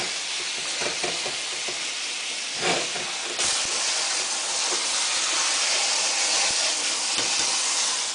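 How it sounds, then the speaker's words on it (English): Hot water rinsing drained cooked rice in a strainer, a continuous hissing, steamy pour with occasional clinks and knocks, no talking. "Now I'm going to rinse in hot water."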